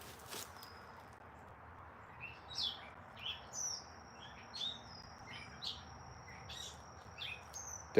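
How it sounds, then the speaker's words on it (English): Birds chirp and tweet repeatedly at a moderate distance, short bright calls scattered over a steady outdoor background hum. "The birds, they sound beautiful."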